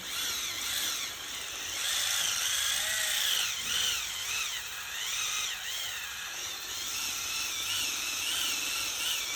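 An electric rotating dead skin remover spins with a steady high-pitched whirring drone, rising and dipping slightly as it works, close and continuous with no talking.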